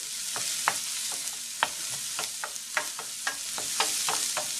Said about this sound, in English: chopped up broccoli and the shallots just cooking over a medium-high heat in butter